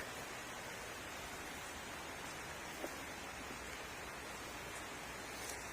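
Rain falls outside a greenhouse growing tomatoes, cucumbers and lettuce, a continuous soft hiss of steady rainfall, even and unbroken, with no voices.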